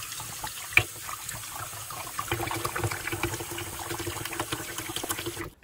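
Water trickles and splashes steadily as sushi rice is rinsed in a bowl at a sink, fairly quiet and close, with one brief clink near the start.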